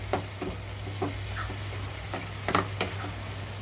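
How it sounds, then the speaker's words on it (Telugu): Amaranth leaf curry with chana dal stirred in a pan over a medium flame: a steady low sizzle broken by repeated soft scraping strokes of a spoon, close and unaccompanied by talk. "రెండు 3 నిమిషాల పాటు మీడియం ఫ్లేమ్లోనే ఉంచి కూర అంతా కూడా కలిపేస్తున్నాను"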